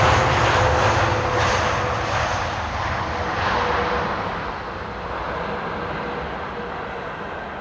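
Engines of an Airbus A330 landing at Schiphol on runway 18R, a loud broad roar that swells early and then slowly fades as the jet passes, with no voices.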